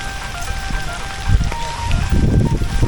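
Rain pours down on an outdoor fishing trip while a cast net is thrown at a fish pond, a steady wet hiss with heavier patter swelling toward the end, loud and close.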